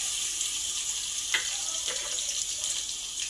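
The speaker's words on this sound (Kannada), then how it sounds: "ಬೆಳ್ಳುಳ್ಳಿ ಹಾಕ್ತಾಯಿದ್ದೀನಿ." Garlic sizzles in hot oil with mustard seeds in a pressure cooker while a lentil rasam is being made. A steady, moderate crackling hiss carries on throughout with no voices.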